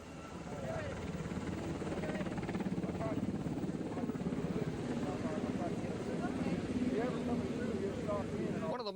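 A helicopter and airplanes perform at an airshow, their steady engine and rotor roar continuous and fairly loud throughout, with a narrator speaking over the drone.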